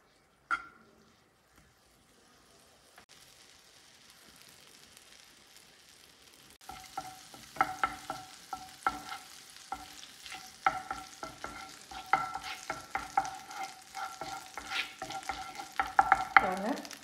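Onions sautéing in melted butter for butter garlic mushrooms, near silence at first, then soft sizzling builds as a spoon scrapes and stirs in quick, uneven strokes.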